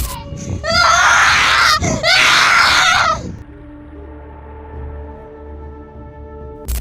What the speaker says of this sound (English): Chaos followed as the kids screamed and fled